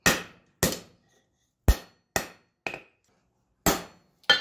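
Sharp, ringing hammer blows land one at a time with pauses between them as a round punch is forged from 5160 coil spring steel, each strike loud and close with a brief metallic decay.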